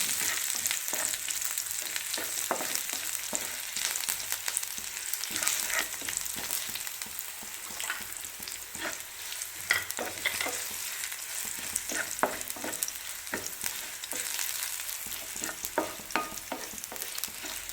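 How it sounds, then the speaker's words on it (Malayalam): Onions, chilies and curry leaves fry in oil for a variety pickle, a steady close sizzle broken by frequent rhythmic scraping stir strokes, with no voices. "നന്നായിട്ടൊന്ന് ഇളക്കി നമുക്ക് നന്നായിട്ടത് ഫ്രൈ ആയി വരണം."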